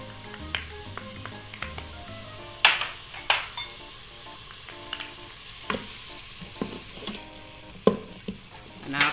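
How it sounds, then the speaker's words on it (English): Onions, ginger and garlic sizzle in a hot pot on an electric pressure cooker, a steady close frying hiss broken by several sharp stirring clatters and scrapes, with no talk. "You can hear the sizzling."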